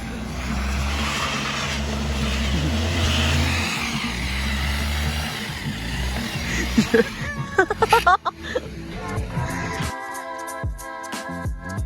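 A vehicle engine drones steadily on a mountain road to Malam Jabba in Swat, low and rumbling, then gives way to clattering and people talking near the end.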